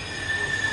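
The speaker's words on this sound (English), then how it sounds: "That's a tram." A passing tram in St. Kilda, Melbourne, gives off a steady high-pitched wheel squeal over low rumbling, close by and continuous, with no voices.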